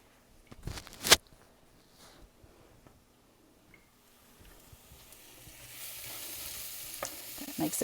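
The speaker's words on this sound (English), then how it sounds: "toasting it in the skillet, that heat just brings out a lot of the flavor of curry" Curry powder toasting in a skillet for chicken curry starts quiet, with a sharp spoon knock and light scraping. A soft frying sizzle then builds steadily and grows louder toward the end.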